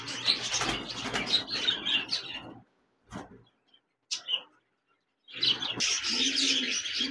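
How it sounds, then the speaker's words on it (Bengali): A pair of budgerigars at a bird farm chirps and chatters in busy bursts of twittering, close by, broken by a short near-silent gap with a few isolated calls before the chatter resumes. "একজোড়া বাজরিগার পাখি রয়েছে"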